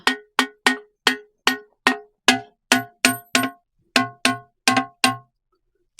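Struck rocks ring out with clear, bell-like musical tones, about sixteen evenly spaced hits at slightly varying pitches, then a pause.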